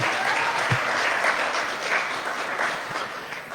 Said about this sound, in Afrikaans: Kom ons gee die Here net 'n lieflike hande klap.